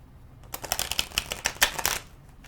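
A deck of Alice in Wonderland tarot cards riffled in a quick burst of crisp flutters and snaps lasting about a second and a half, close and clear, with near silence before and after.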